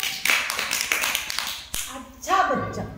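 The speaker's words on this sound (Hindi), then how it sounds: "खुशबू के लिए ताली बजाओ।" Schoolchildren in a Hindi alphabet lesson give a short burst of clapping for a classmate, a few scattered taps and claps, with a teacher's voice speaking over and after them.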